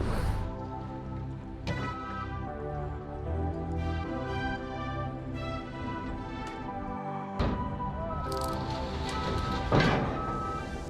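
Steady rain falls outdoors on the day kitchen cabinets are being picked up for a self-built house, a continuous soft patter of drops with a few louder splashes and drips, heard alone without talk.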